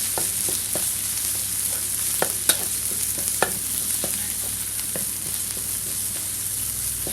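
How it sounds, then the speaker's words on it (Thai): Shrimp paste and southern Thai curry paste stir-fried together in a pan, a steady close sizzle with occasional sharp scrapes and taps of the spatula against the pan. "ผัดกับพริกแกงให้เข้ากันนะครับ"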